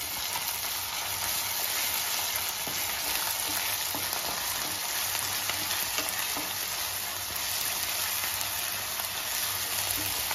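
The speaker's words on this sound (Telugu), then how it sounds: "అల్లం వెల్లుల్లిపాయ పేస్ట్ కూడా పచ్చి వాసన పోయిందాక వేయించుకోవాలి" Ginger-garlic paste frying in hot oil for chicken sherva, a steady loud sizzle with light stirring scrapes running continuously and close throughout, no voices.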